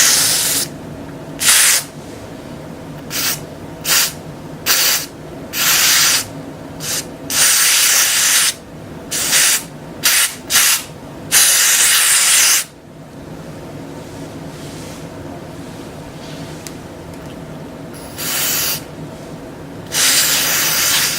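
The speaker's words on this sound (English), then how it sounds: "let me spray it on here and see what happens" Temporary color spray is aimed onto short natural hair in a ponytail. Short aerosol hisses come close and loud, repeated in an uneven rhythm with brief pauses between them.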